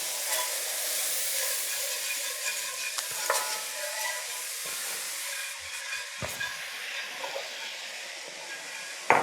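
Whole milk being stirred into a frying pan of gravy for country fried steak, giving a steady hiss and sizzle with the spoon scraping and clinking against the pan and no voices.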